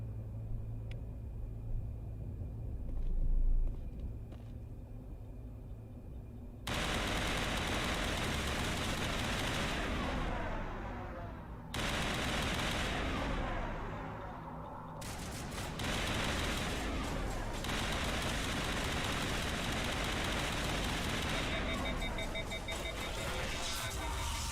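Gunfire with radioactive bullets in Mass Effect 1 rattles in long sustained bursts after a quieter opening with brief clicks, loud and dense, broken by a couple of short gaps.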